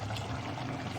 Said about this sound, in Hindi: मैंने लिया है ऑल पर्पस मिल्क और 2 टेबल स्पून के अकॉर्डिंगली मैंने इसमें ऐड किया है